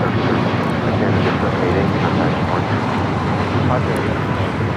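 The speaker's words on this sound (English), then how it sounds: "788 taking off to Toronto on the MAX 8" Air Canada Boeing 737 MAX 8 taking off, a continuous rumbling jet roar with wind buffeting the microphone, heard at some distance with talk over it.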